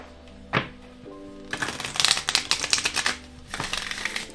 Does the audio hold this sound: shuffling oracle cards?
yes